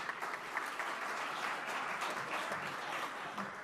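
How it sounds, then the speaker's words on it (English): Rotary Club of Tulsa audience applauding together at a meeting, a steady, dense wash of many hands clapping that holds evenly throughout without any speech over it. "Let's give him a round of applause."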